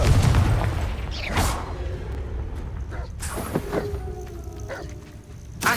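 A Confringo fire blast spell goes off in the Hogwarts Legacy video game as a deep rumbling boom, followed by sharp crackles and swooshing impacts over a low, continuous background.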